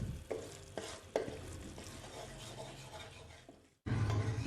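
Flour roasts with dates in a pan for sugar-free khajoor halwa, a spatula scraping and stirring with a few sharper knocks over a low sizzle, briefly cut off before resuming louder.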